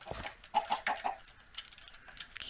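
Minecraft chickens clucking in a video game, a few short bursts of clucks at close range with quieter game ambience between them and no talk.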